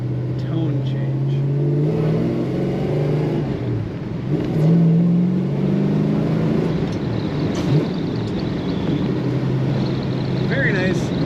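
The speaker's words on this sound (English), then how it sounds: "Another one of those cars that makes you want to just play with the throttle and hear that tone change." A 1965 Oldsmobile Cutlass 442 restomod convertible revs its exhaust, a deep, loud rumble repeatedly swelling and settling as the throttle is blipped, with someone talking over it.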